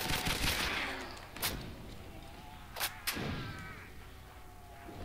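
Gunfire in Call of Duty: World at War custom zombies, with a few sharp shots standing out over a faint game background.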